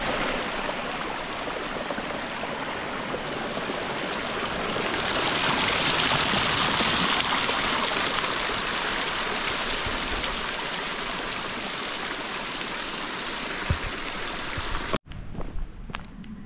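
A mountain stream on a hiking trail in Andorra rushes steadily and fairly loud, a broad continuous wash of flowing water that swells slightly in the middle before an abrupt cut near the end.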